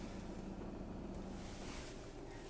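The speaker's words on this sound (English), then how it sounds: "4-cylinder diesel engines from Volvo aren't the most refined on the market" A 2018 Volvo XC40 D4 Momentum's 2-litre four-cylinder diesel engine runs at a steady idle, giving a constant dense drone with a low hum that persists unchanged throughout.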